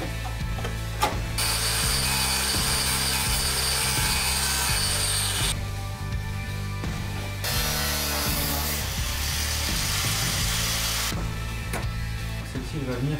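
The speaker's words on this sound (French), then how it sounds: "il va falloir que je passe un coup de meuleuse à ces endroits-là pour que la soudure prenne bien" Angle grinder working the rocker panels of a Peugeot 205 before welding, a loud continuous whine and grinding that stops and restarts twice with short quieter gaps.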